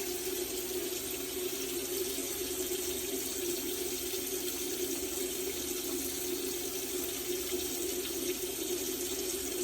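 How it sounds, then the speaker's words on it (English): Water runs steadily from a bathroom sink tap during a shave, a constant even rush of flow splashing into the basin, close and alone with no voices. "I don't normally keep the water running, but try not to let this longer, bigger hair clog up the drain"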